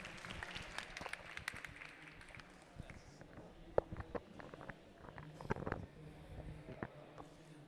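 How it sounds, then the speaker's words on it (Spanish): Scattered audience clapping at an international education policy congress in Latin America, uneven and moderately close, with murmuring voices mixed in as the session wraps up. "un aplauso para ustedes por ese trabajo tan importante"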